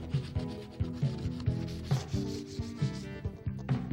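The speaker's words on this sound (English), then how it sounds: "We want to be careful that we don't actually leave grooves in the primer from our sandpaper." Sandpaper of 220 grit rubs back and forth across a primed metal wine rack in a steady, even rhythm of close, scratchy strokes.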